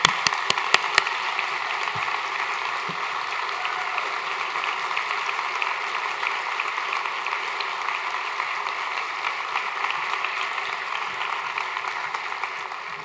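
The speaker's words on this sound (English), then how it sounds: "Enjoy that applause." An audience at the Mohawk College presidential installation claps for Ron J. McKerlie, opening with a few sharp distinct claps before settling into a continuous, dense wall of applause that carries on evenly to the end.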